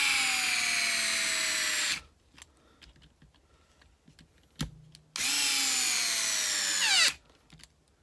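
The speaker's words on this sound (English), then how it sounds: "we are going to run the screws back down in there almost all the way" A power driver whines at high speed, running screws into plastic parts of a Losi 8ight-X RC car in two bursts of about two seconds each, with a pitch that drops as each screw tightens and small handling clicks in between.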